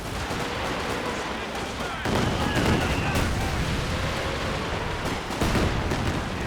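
Katyusha rocket barrages and other battlefield fire in Company of Heroes 2, a dense roar of blasts and rumbling explosions, loud and continuous, with heavier bursts near two and five seconds.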